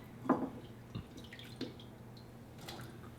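Water drips and splashes off potatoes as they are lifted out of a pot while cooking goulash soup, a few distinct drops spaced apart against quiet kitchen background.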